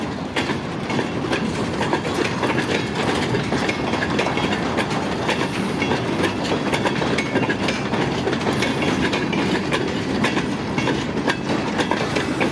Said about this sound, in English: I was just laying in bed and thought I heard a train.